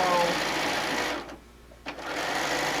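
A sewing machine stitches a fabric cover with a fast, steady mechanical whir, breaks off into a short pause, then resumes running briefly for a back tack, heard up close.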